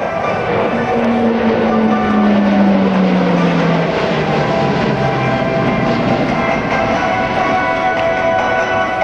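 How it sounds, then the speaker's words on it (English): A 27-ton E-2 Hawkeye turboprop sweeps through a tight 360-degree turn at a naval air station airshow, a loud, steady propeller roar with a slowly falling drone throughout. "Watch closely as this 27-ton aircraft executes a 360-degree turn within a radius of less than half a"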